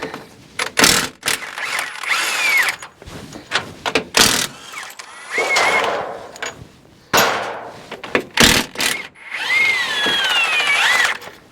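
Impact or power tool loosening the steering gear box mounting bolts on a 2004 GMC Sierra 3500 Duramax, heard as repeated loud bursts of whirring rattle with short pauses between them in a shop setting.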